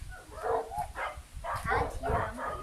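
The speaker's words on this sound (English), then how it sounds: "Can you hear the puppies?" Puppies barking and yipping in a garden, a series of short excited barks in quick bursts, fairly close and under light talk.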